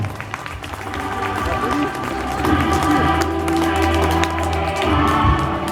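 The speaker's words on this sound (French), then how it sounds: "Et on peut les applaudir très fort." Outdoor audience at a falconry show in L'Isle-Adam claps steadily with crowd noise, sustained dense applause at moderate loudness, blended with voices and some tonal background sound throughout.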